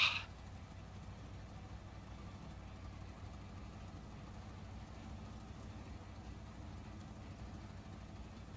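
A truck engine idles in the video game Snowrunner, a faint, steady low rumble that holds unchanged throughout after a brief louder burst at the start, with no talk over it.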